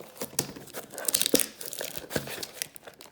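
Cardboard and foil wrapping of a 2019 Topps Chrome Update card box being ripped open, close-up crinkling and tearing in quick bursts for a few seconds, no voices.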